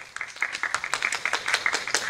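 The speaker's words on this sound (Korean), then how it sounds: "큰 박수 부탁드립니다." An audience claps at a press photo session for the drama 'Romantic Boss', a steady patter of many hands that starts quietly and keeps going at moderate volume with no one talking over it.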